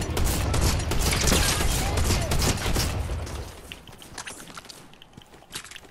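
Video game gunfire, a thick burst of rapid shots that dominates the first half and then thins into scattered clicks and softer mechanical taps.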